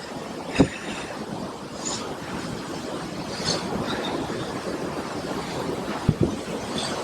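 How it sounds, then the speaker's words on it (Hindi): A mountain river near Gamshali village rushes loudly in a continuous broad roar, with a few sharp knocks and thuds over the flow and no speech. "ये नदी की एक एकदम नेचुरल साउंड है, आप सुनिए इसको"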